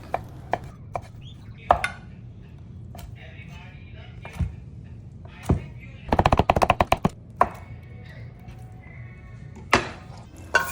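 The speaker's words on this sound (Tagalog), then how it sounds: "Tara, hiwain na natin to sa gusto nating hiwa." A knife chopping boiled meat for sisig on a cutting board, sharp isolated cuts spaced apart, then a rapid burst of quick chops in the middle, close and crisp, with a few quieter knocks after.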